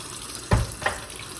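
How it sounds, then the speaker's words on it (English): Vegetables and potatoes are washed under a running kitchen tap, with a low background wash of water and two short splashy bursts close by as the produce passes through the stream. "we're gonna wash off our vegetables, wash off our potatoes"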